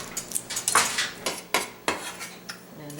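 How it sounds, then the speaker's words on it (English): Raw garlic goes into a salad bowl of kale Hoppin John salad, giving a close series of sharp utensil-on-bowl clinks and scrapes in an irregular rhythm, with no voices. "I'm going to add some raw garlic to this."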